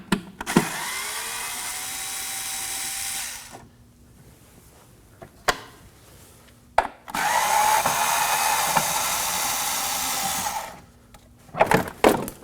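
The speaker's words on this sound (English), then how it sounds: "Now remove these two Phillips screws." A power driver backs two Phillips screws out of the front inner fender liner on an Acura MDX, two separate close whirring bursts with a quiet gap and a few clicks between them.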